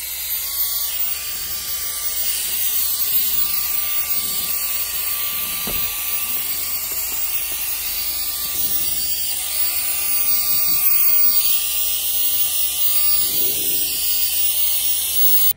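A Willgoo turbo jet fan blows snow off outdoor stairs, giving a steady, loud high-pitched whine and rushing hiss of air that runs continuously and close by, with no talk.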